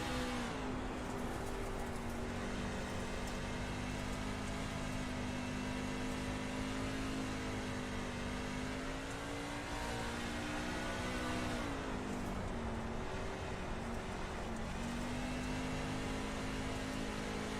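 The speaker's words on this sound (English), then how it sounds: "Listen to how they have to feather the throttle." A dirt race truck engine at a Bristol dirt track drones steadily as the driver feathers the throttle, the pitch dipping and rising through turns in a continuous, loud roar with no talk.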